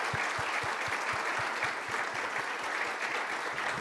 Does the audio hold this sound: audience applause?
yes